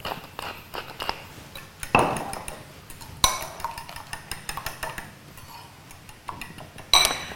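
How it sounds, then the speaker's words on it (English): Eggs are beaten in a bowl for a spinach frittata, a steady run of quick metallic clinks and taps of utensil against dish, close and without talk. "So you just beat them like this."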